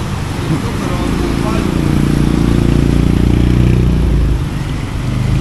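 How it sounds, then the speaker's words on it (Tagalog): Delivery motorcycles pass along a flooded coastal boulevard in Malabon, their engines droning loud and steady for several seconds before easing off near the end, with talk faintly underneath. "nakadaan naman yung mga Shopee na motor, Shopee rider"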